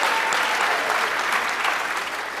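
Steady, dense applause from a large audience fills the space, loud and continuous without pauses, with no voices standing out.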